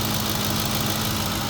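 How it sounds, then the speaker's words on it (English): Idling 2007 Ford F150 with a 5.4 three-valve V8 and a faulty VVT solenoid, running as a loud, steady close-up engine drone in which the rapid ticking is buried. "there's a ticking on this side"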